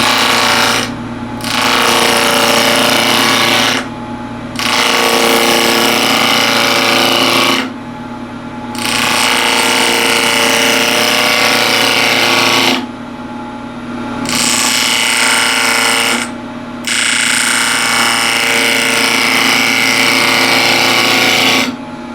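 A wood lathe spins at 1700 RPM while a yew box is turned, giving a loud, steady scraping cut that repeats in several long passes with short quiet gaps between them.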